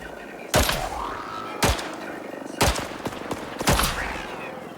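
Hand cannon gunfire in the video game Icarus, four loud, sharp booming shots spaced about a second apart, each with a short ringing tail.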